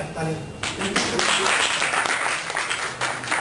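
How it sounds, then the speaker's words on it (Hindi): Audience at a tech talk applauding as company partners are introduced, a burst of clapping swelling after a short spoken lead-in and continuing fairly loud to the end. "तालियां"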